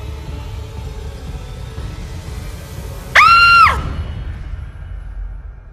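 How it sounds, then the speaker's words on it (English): A woman's single high, piercing scream rings out for under a second over a low rumbling background, loud and close. "until it finally broke into a deadly scream"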